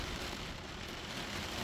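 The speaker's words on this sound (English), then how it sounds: "the 40-mile-an-hour winds and rain's not going to help filming" Steady, dense broadband rush of rain driven by strong 40-mile-an-hour winds at an Irish coast during bass lure fishing, loud and continuous without pause or talk.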